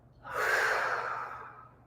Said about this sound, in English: Audibly exhale.